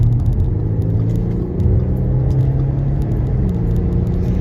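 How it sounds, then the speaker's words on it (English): An Audi SQ5 driving hard, its engine giving a steady, loud, low rumble with road noise that holds constant throughout, with no talking. "Might as well give the car one final thrash if I'm going to get rid of it."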